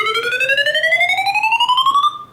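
A synth FX preset called Power Up 1 in FL Studio sweeps steadily upward in pitch with a fast pulsing flutter, loud and alone, cutting off after about two seconds.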